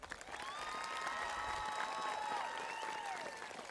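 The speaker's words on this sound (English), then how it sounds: "Please give them a round of applause." Audience applauding at the 2023 Mountain Ridge High School commencement ceremony, a sustained wash of clapping with a few whistles rising above it, moderately distant.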